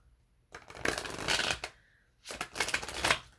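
Tarot cards being shuffled up close in two distinct riffling bursts separated by a short pause, crisp and papery with no talking.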